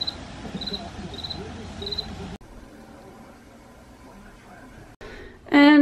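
A cricket chirps in short, regular high-pitched bursts for about two seconds close to the microphone, over a steady background, before cutting off to quieter room noise and a loud clatter at the end.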